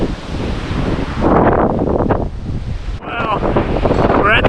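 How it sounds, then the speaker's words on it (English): Heavy wind buffets the microphone in loud, uneven gusts at the top of Ruined Castle near Mount Solitary, with rushing roar that swells and dips throughout. "It's a bit windy."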